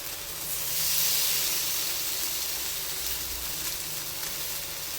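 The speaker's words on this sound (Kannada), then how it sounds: "ಈಗ ಫಿಶನ್ನು ಒಂದೊಂದೇ ಪೀಸ್ ನಾನು ಫ್ರೈ ಮಾಡೋದಕ್ಕೆ ಇಡ್ತಾ ಇದ್ದೀನಿ." Pieces of rupchand fish fry in oil spread across a pan, giving a loud, steady hissing sizzle that swells early and then holds close by, with no talk.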